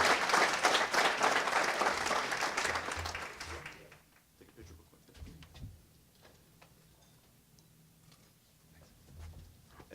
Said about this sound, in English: If we give one more round of applause to Dorian.